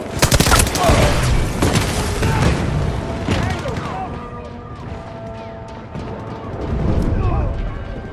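Battlefield 2042 battle audio: dense rapid gunfire and heavy explosive booms crowd the opening seconds, then sporadic shots and blasts continue at a distance while game voices shout over the fighting.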